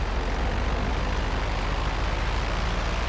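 A light propeller plane in GTA V flies steadily, its engine drone a continuous loud, even hum with a faint pulsing throb and no breaks, heard alone without any talk.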